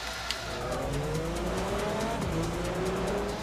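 Twelve race cars launch together at the start of a two-lap race at Road America in Forza Motorsport 4, engines roaring loudly and continuously with rising gear-change tones and bursts of tire squeal.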